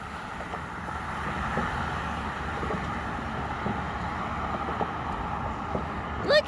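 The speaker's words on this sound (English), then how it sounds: "sorry for the traffic noise" Traffic on a road near the Appalachian Trail at Delaware Water Gap makes a faint, continuous rumble of passing vehicles, a steady distant hum with mild swells and a brief louder rustle at the very end.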